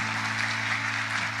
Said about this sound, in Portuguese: Você pode aplaudir, glorificar o nome do Senhor.